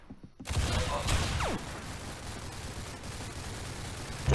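Rapid gunfire from a weapon in a first-person shooter video game, a dense, loud burst of shots beginning abruptly after a quiet moment and rattling on continuously with heavy low rumble throughout.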